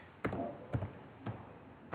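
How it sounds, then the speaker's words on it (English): Four sparse, faint key presses on a computer keyboard, evenly spaced and quiet, with no talk over them. "I'll just type SSH KtechHub at"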